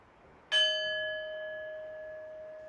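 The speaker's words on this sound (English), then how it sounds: "I'll sound the bell when the pose is done." A single bell is struck to close a yoga pose, giving a bright clear strike that rings on with steady sustained tones, slowly fading over a quiet room.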